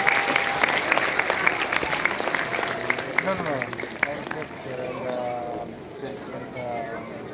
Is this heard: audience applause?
yes